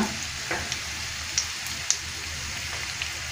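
Bay leaves hitting hot oil with onions in a pan for a beef korma, a steady close-up sizzle with a few small pops and stirring scrapes, no voices.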